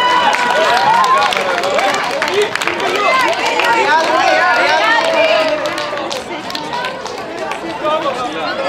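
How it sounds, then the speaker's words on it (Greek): Sustained crowd applause and cheering fill a para-athletics track meet after a girls' race winner is announced, loud and steady before easing slightly toward the end. "Συγχαρητήρια, χειροκρότημα."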